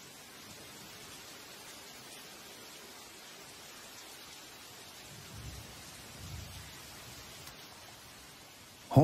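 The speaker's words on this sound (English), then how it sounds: "The rain starts pouring down" Steady, dense tropical forest rain hissing down, with a few low rumbling swells partway through and a sharp knock right at the end.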